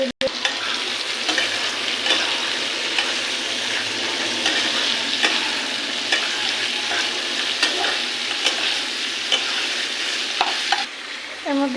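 Potatoes and onions frying with spices in a pan, a continuous close sizzle with repeated scraping stirs throughout, no talking.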